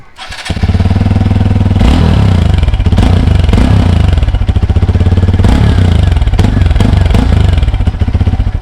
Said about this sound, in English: This is obviously a modified exhaust